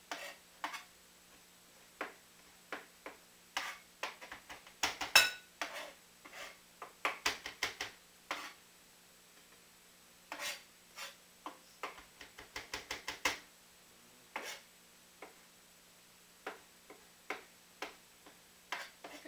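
A knife finely chops a herb or ingredient for tabouli on a board, producing bursts of quick, crisp taps in irregular clusters, close and clear, with brief pauses between runs and no talking.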